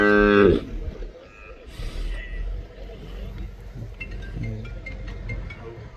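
A herd of thousands of buffalo bellows, one loud, close, deep call opening the scene before quieter distant lowing and murmuring voices continue in the background.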